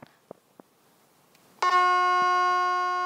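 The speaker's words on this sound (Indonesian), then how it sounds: "kenapa ada bunyi kik? Itu berarti kita akan melakukan call atau ada call dari file director yang berada di ruang produksi" A TV studio intercom sounds its call tone from the production room: after a few faint clicks, a sustained bright electronic ring starts abruptly and holds steadily at a loud, even level to the end.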